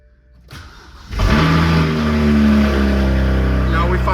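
A BMW N54 car engine with a spun rod bearing cranks briefly then catches and roars to life, settling into a loud, steady rumble up close.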